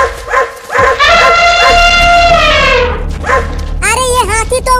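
Dogs barking and yelping loudly and close in a Hindi comedy sketch, with a long drawn-out whine in the middle and quick yips at the end, and people talking alongside.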